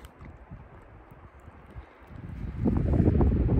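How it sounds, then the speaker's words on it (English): Gusty wind on the Arizona Trail rumbles into the microphone while a hiker sits beside a cedar, low and steady at first, then swelling into a louder, heavier buffeting near the end. "I know it's a little windy"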